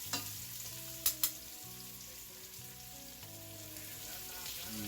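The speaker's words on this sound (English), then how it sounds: "you want to brown them on both sides" Oxtails brown in a hot pan, a faint steady sizzle and crackle of frying running throughout, with a couple of sharp clinks of a utensil early on and no talking.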